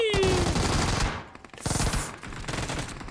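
Rapid automatic gunfire in the mobile battle royale game PUBG Mobile, dense loud bursts with a brief gap before another rattling volley, close and harsh.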